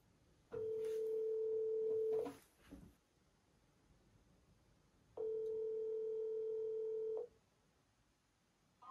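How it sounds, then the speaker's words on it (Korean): A phone line ringback tone sounds twice after dialing, each a steady electronic tone lasting about two seconds, separated by a silent gap, close and clear. "전화를 그럼 지금 한번 해보겠습니다."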